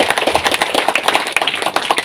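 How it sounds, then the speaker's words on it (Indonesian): A crowd claps loudly for the village head and elders at a church blessing ceremony, with many distinct close hand claps forming a brisk, uneven rhythm throughout. "kita berikan tepuk tangan yang meriah untuk mereka"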